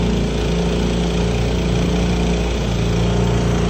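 Stock mud motor on a small boat cruising about 12 miles an hour through a no-wake channel, a loud, steady, close engine drone without pause.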